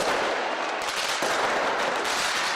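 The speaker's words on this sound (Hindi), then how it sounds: "आतिशबाजी के साथ लोग जश्न मनाने लगे।" A dense, continuous barrage of New Year fireworks booms and crackles loudly near a clock tower, with bursts overlapping into a steady roar.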